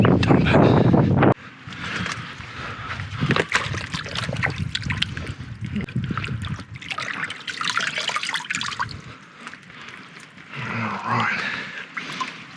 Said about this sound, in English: Sorry for the wind.